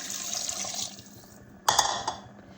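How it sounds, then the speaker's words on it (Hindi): Water pours into a cooking pot of chicken shorba in a steady stream, then a short splashy glug as the last of it goes in, close and fairly quiet. "मैं इसमें 2 गिलास पानी डाल लूँगी"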